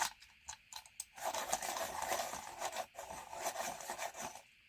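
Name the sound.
sharpening a colouring pencil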